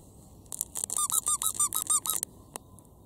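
A squeaker inside a plush African wild dog toy is pressed about nine times in quick succession, producing sharp, close, high-pitched squeaks over a quiet room, followed by one more short squeak.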